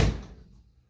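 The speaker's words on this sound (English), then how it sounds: "when you shut the door" A 1968 Mustang car door shuts with a single solid thud, loud at first and quickly fading into silence.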